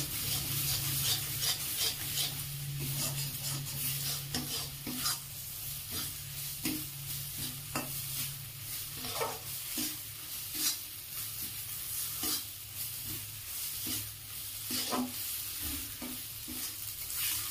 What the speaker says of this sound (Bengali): বাটাটা আমার টালা প্রায় হয়ে এসেছে, আর একটু আমি টালবো